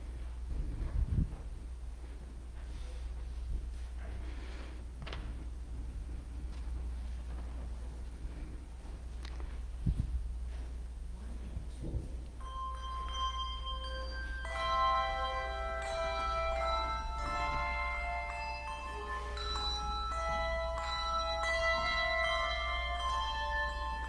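A handbell choir plays an old-time gospel melody at a Sunday church worship service. A few scattered bell strikes ring out first, then a steady run of overlapping ringing tones builds over a low room hum, with no talking.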